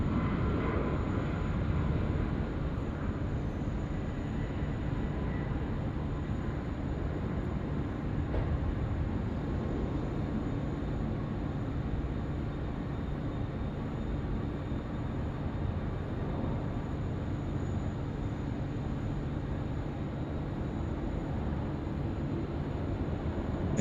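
A Qantas airliner on flight 654 lands on runway 16 right at Sydney Airport, heard as a continuous distant broadband rumble of engine and rolling noise that holds steady throughout.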